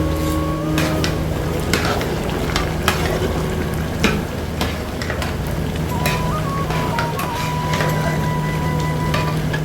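Curry leaves fry in hot oil in a big pan, a loud, continuous crackling sizzle with stirring clatter and a steady hum of burners or machinery underneath.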